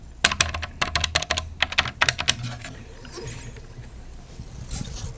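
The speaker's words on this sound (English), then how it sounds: "Let's press some buttons over here." Buttons on a Thrustmaster T598 direct-drive racing wheel pressed in a quick burst of sharp plastic clicks, close and crisp, then fading to quiet handling noise with a faint voice near the end.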